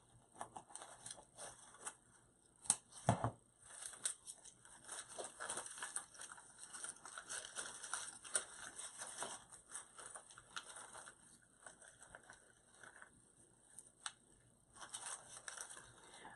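Snipping and crunching through fall wreath greenery and berry stems with scissors or cutters, a sharp loud snap near the start followed by steady close rustling, crinkling and clipping.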